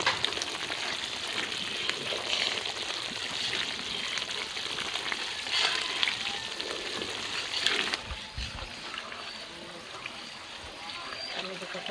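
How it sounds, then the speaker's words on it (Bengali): Butter simmers into ghee with a steady, close sizzling hiss and fine bubbling crackle that softens after a short dip near the end, while a voice speaks over it. "এই যে ধারে ধারে ঘি ছাড়ছে, ধারে ধারে ঘি।"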